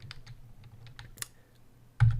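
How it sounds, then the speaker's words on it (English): Keys clatter on a computer keyboard as code is typed, a close, quick run of light taps with a short pause and then a louder clack at the end. "I'm just typing code to the shell"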